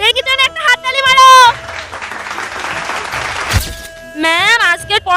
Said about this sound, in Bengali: তো বাচ্চারা ভেঙ্গি জন্য একটা হাততালি মারো